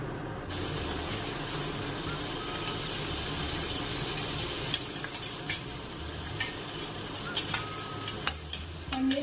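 Shrimp pad thai stir-fried one plate at a time in a pan at home, with a steady loud sizzle, scraping stirs and sharp spatula clinks against the pan that grow more frequent toward the end.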